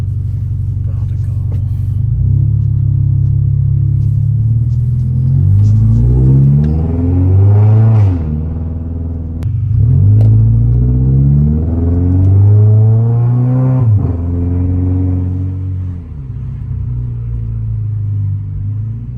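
A Toyota GR86 pulls away nearby, its engine rumbling loud and climbing in pitch through a few revving surges as it accelerates, with someone talking over it.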